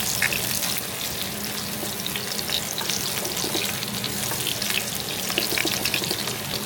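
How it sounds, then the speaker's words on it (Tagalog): Garlic and onion frying in oil in a pan for beef kare-kare, a steady dense sizzle that continues evenly throughout without any talk. "Maglalagay lang tayo ng mantika, bawang, sibuyas."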